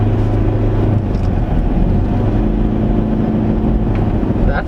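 A 2020 Ford Everest 2.2 Trend 4x2 automatic pulls away in sport mode, its engine a steady low drone with wind and road rumble underneath, loud and close, with no talking.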